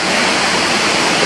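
Waterfall at Air Terjun Banyu Wana Amertha, a loud, close, unbroken roar of falling water filling the whole moment with no voices.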